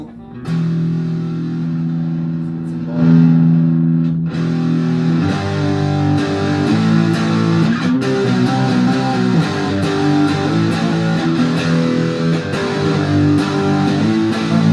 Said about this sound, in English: Some distortion, make it sound kind of cool.